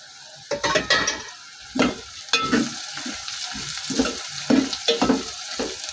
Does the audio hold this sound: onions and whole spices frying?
yes